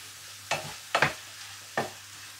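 Apple slices sauté in a pan for a turkey parmentier with two kinds of apple, three short bursts of sizzle and stirring scrapes rising over a quiet hum.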